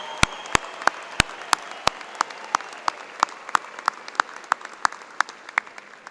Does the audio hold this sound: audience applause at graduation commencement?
yes